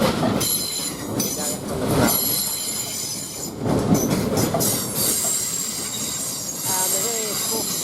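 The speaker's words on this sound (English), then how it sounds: "Now we're getting this South Western Railway, 1254 to London Waterloo" A South Western Railway Class 450 electric train at Basingstoke station, with rumbling wheels, clicking rail joints and high squeals from the wheels rising and falling as it moves close by.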